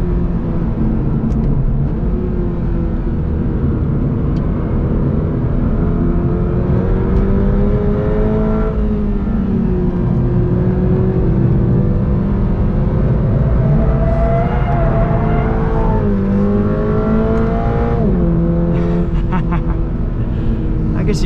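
Automatic 2022 Toyota GR86 accelerating, heard from inside the cabin: a loud, constant engine drone whose pitch climbs, drops at each gear change and climbs again, repeated several times through the run.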